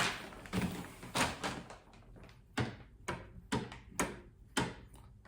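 Door handle latch on a Willys CJ3B being worked open and closed, giving a series of close, sharp metallic clunks and clicks at an irregular pace, with no voices.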